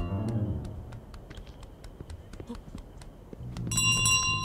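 A bell in the Untitled Goose Game rings in repeated sharp, bright strikes, jangling irregularly over low background game sounds, with a quick cluster of higher chimes near the end.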